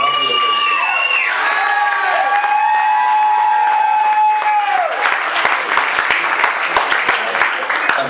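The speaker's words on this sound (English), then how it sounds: "How about a round of applause" Wedding guests clapping and cheering during a best man's toast, loud and close, with whoops and shouts over dense applause. Sustained whistle-like tones sweep across the first half before the clapping takes over.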